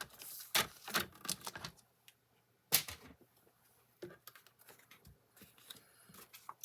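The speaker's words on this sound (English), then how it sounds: "Bring in my paper trimmer" A paper trimmer slices through scrapbook paper with close, crisp rasping strokes clustered near the start and another sharp cut midway, followed by softer rustling and handling of the paper.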